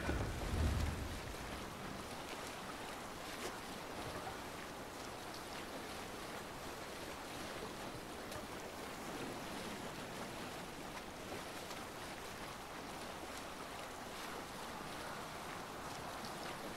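A sailing ship at sea in Assassin's Creed Valhalla, heard as a steady wash of waves and water against the hull with faint wind, continuous and fairly quiet, with a brief low thump at the start.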